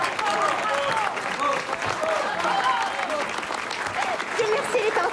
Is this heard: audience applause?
yes